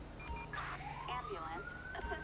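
An ambulance siren in GTA 5 with the LSPDFR police mod rises in a wailing sweep at moderate distance, mixed with game noise and someone speaking over it.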